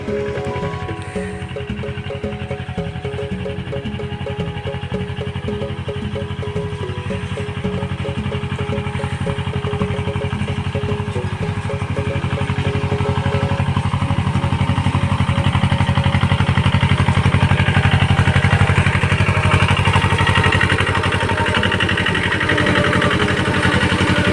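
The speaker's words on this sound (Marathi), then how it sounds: "तर तू पाहू शकतो छोटा ट्रॅक्टर आणि आता पाळी घालून राहिलो" A small tractor works an orange orchard, pulling a weighted plowing implement; its mid-pitched engine drones steadily throughout and grows slightly louder and fuller toward the end, with no talking.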